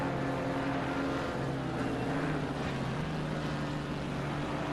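Porsche GT4 race car engine in a PC racing game at Misano, a steady droning engine tone holding throughout at moderate level with no speech.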